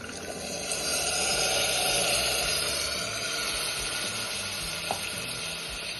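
Field beans (pavta) tossed into hot masala in a pan sizzle and fry steadily, a loud, continuous close-up hiss with faint stirring.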